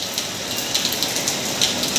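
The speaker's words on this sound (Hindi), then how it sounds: "आना पानी गिरत हो।" Steady rain falls alone in a dense, even hiss, with scattered louder drops pattering close by and no voices.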